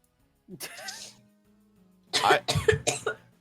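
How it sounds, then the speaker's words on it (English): A short cough, a pause, then a burst of several loud, close harsh coughs in quick succession. "loud with his coughing."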